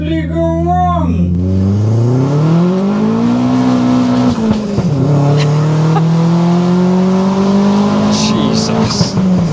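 A 310-horsepower Vauxhall Astra GSi on budget tyres accelerates hard from inside the cabin, its engine note climbing steeply through a gear, dipping at a shift, then pulling up again, loud and close, with a brief voice at the start.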